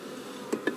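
Honey bees droning steadily around an open top bar hive during a June inspection, a soft continuous buzz close by, with two brief louder knocks or taps near the end.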